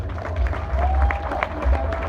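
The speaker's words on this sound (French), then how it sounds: "applaudissez-les, s'il vous plaît" A crowd at a law faculty graduation ceremony applauds, a moderate spread of clapping and crowd noise over a deep low rumble in a large hall.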